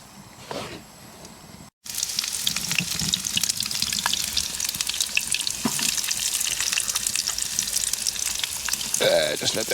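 Food reducing and sizzling in a pan on a wood-burning stove in a sheltered forest camp, likely sirloin steak, with a steady dense crackle that runs almost the whole time after a brief pause, plus occasional stirring clinks.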